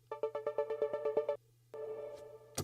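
A gated synth made in Spire chops a bright chord into a fast train of about a dozen even stabs, then breaks off and returns as a sustained tone over a steady low hum.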